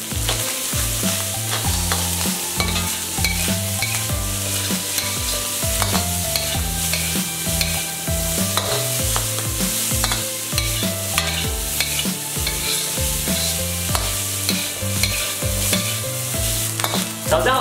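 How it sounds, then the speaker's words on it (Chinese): Pork stir-fries in a wok with shiitake mushrooms and dried shrimp, a continuous sizzle and scrape of stirring that runs throughout beneath prominent background music. "猪肉炒香后放入香菇和虾米"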